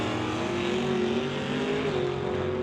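Ford Roadster drag car at a drag strip, its engine holding a loud, steady roar with a sustained high drone and no talk over it.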